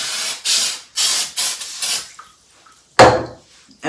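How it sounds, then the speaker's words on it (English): Lysol spray hisses onto plants in four quick, even bursts, then after a pause one more short spritz, close and loud with no talking. "with this Lysol spray"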